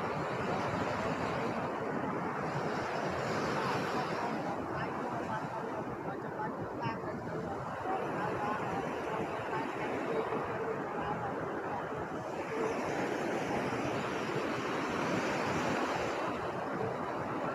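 Floodwater pours from the broken O Khai Don dam in Banteay Meanchey, Cambodia, a loud, unbroken roar of rushing water close by, with wind buffeting the microphone throughout.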